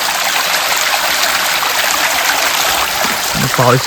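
A rocky stream flows steadily at night in the rainy season, a constant loud rushing and trickling, with a brief voice speaking near the end.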